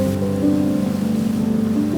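Sea waves wash continuously against a pebble beach on a rugged coastline, a loud, steady rushing surge with rolling churn and no voices.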